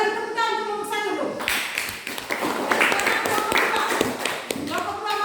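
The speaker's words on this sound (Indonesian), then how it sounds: "sekali lagi tepuk tangan untuk kelompok 1 dulu" A classroom of students claps briefly for a group, a dense burst of close hand claps set between stretches of a teacher's voice.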